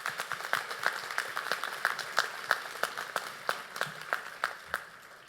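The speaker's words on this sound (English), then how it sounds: "Can we have another round of applause for Jada?" Scattered clapping from a convocation audience at NSCC Marconi Campus, a sparse, uneven patter of fairly few hands at moderate distance, carrying on steadily without talk.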